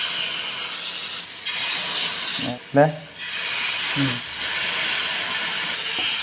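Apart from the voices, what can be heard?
catfish frying in boiling oil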